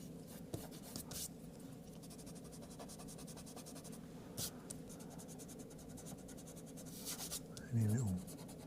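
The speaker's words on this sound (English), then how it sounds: "we're going with the eraser and just nib out" Light scratchy rubbing from an eraser working lines out of an airbrushed sepia drawing, faint close strokes in short repeated bursts, with a brief soft voice-like sound near the end.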